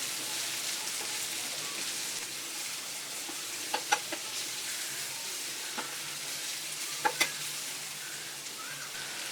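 Sliced onions and curry leaves frying in oil in a pan for a prawn fry give a steady, close sizzling hiss, with a few brief clicks and crackles scattered through it.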